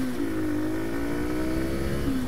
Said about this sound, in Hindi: अब एक बार मैं आप लोगों का भगा के देखूंगा इसका पिकअप कैसा है।